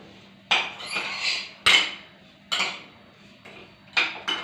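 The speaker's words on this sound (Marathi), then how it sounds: "आणि आता परत मिक्स करूया." Chapati noodles being mixed with salt in a pan, with a utensil scraping and clinking against the metal in about six distinct, close strokes separated by short pauses.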